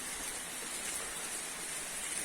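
Steady rain falls over an outdoor scene, a dense, even hiss that stays constant throughout with no voices over it.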